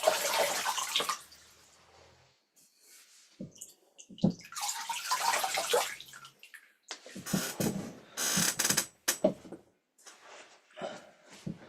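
Water is poured from a small jug to rinse feet in a tub, coming in several separate splashing bursts with quiet gaps between them, close and fairly soft.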